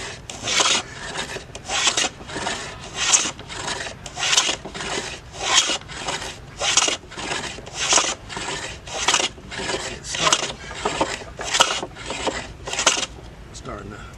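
Hand plane shaving 3/4 inch thick wood at a civil war reenactment, about twenty rhythmic rasping strokes in a steady back-and-forth cadence, close and fairly loud.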